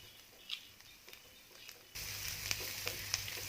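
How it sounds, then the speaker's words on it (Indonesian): Garlic, onion and curly red chili sauté in hot oil, starting with faint scattered crackles and then swelling into a steady close sizzle with occasional pops. "Tumis sampai wangi"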